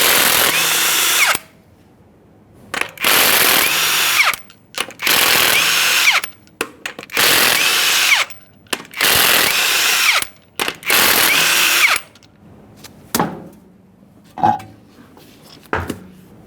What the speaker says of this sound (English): we're going to remove the wheel by removing all 6 of our 21mm lug